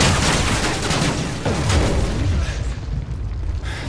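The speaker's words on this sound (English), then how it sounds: "Friendly Predator missile inbound." In Call of Duty Modern Warfare 3 multiplayer on the Underground map, a Predator missile strike lands as a heavy, booming explosion with rumbling debris and scattered gunfire, loud and close, sustained across the moment.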